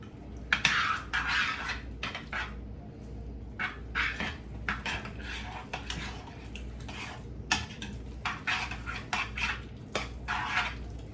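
A utensil stirs sour cream and cheese in a bowl, its scraping strokes coming in clustered bursts, with sharp clinks against the bowl in between. The sound is close, with no talk.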